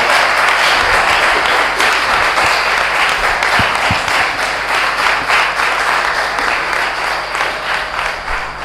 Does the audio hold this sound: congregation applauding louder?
yes